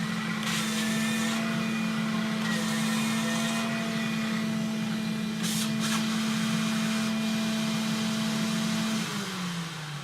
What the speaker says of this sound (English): lower the squeegee and the suction comes on. We can show it sucking up and drying the floor like so.